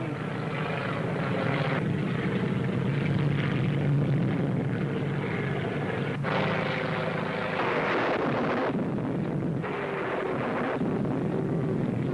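A propeller airplane droning steadily overhead in icing conditions, with ice forming on the wings, a continuous loud engine roar that swells and dips slightly throughout, with no talking.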